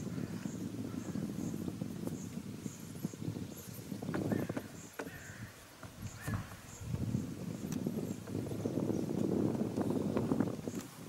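A horse moves during early training sessions, hooves clip-clopping irregularly at a moderate distance, faint and uneven with some rustling and outdoor background noise.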